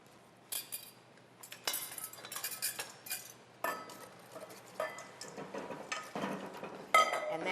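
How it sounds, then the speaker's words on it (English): A whisk mixes dry ingredients into batter for a tart bread, making irregular metallic clinks and scrapes against the bowl in short bursts separated by quiet gaps. "We're now going to whisk in our dry ingredients into this mixture."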